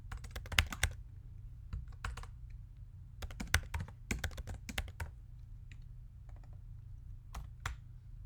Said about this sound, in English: you need to put in the NSX manager IP address